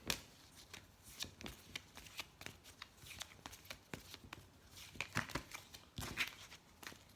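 Tarot cards shuffled by hand in a quiet room, a steady riffling patter of soft slaps and flicks with no voice present.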